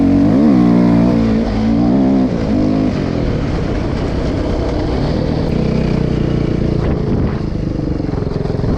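A KTM EXC250-F four-stroke dirt bike engine runs loud and close throughout, rising and falling in pitch with throttle blips early on, then holding a steady, buzzing drone.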